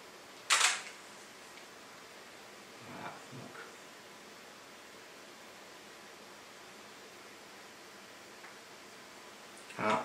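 A Nikon camera fired by wireless remote for a long exposure gives a sharp shutter click near the start and another at the end, with a faint quiet stretch and soft rustling between.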